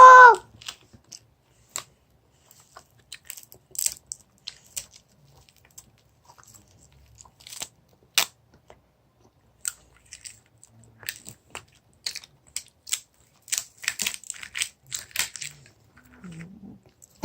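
Apple-flavored edible colored paper being chewed and bitten in small, crisp, intermittent crunches close to the mic, spread across a mostly quiet stretch, with a brief voice at the start.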